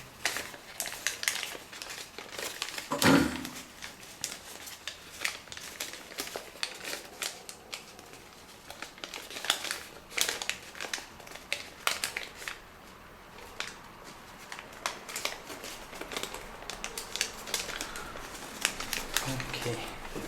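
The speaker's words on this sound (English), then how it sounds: "now make here the belly fold along the inner lines" Paper is folded into an origami orchid blossom with a belly fold, soft close crinkles, creases and rustles recurring throughout, with a sharper crumple early on, while a person talks.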